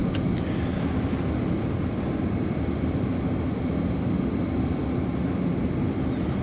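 A steady, moderately quiet jet drone from a CRJ airliner cruising in Flight Simulator X, a smooth broadband rumble that holds unchanged throughout with no talk over it.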